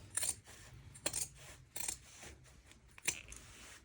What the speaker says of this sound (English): I'm just going to take a pair of scissors and I'm going to personally just grade the seam allowance